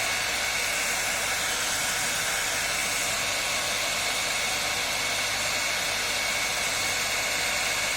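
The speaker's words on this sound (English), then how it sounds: "Be very careful while using the dryer or heat gun." A hair dryer or heat gun blows hot air onto a decoupage candle to melt the printed design into the wax, a steady loud whooshing hiss running unbroken throughout with no speech.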